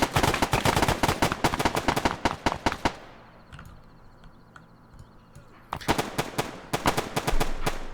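Rapid bursts of gunfire from AI soldiers moving and shooting in the video game Arma 3, dense close shots for a few seconds, a quieter lull, then renewed firing.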